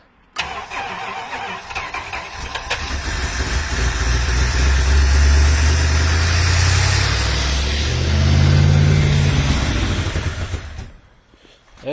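A matching-numbers 1963 Dodge Polara cranks and catches for the first time in decades, its engine roaring up loudly and close before settling into a rough, fluctuating idle that cuts off near the end.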